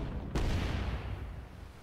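A warship's cannon fires in the naval combat game Leviathan Warships: one sharp booming shot near the start, followed by a low rumbling tail that fades slowly, with no talk.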